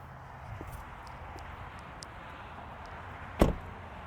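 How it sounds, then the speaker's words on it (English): Door of a 2020 Kia Soul GT shutting once with a single solid thump, close by, after a few seconds of quiet outdoor background. "I'll let you hear the door sound."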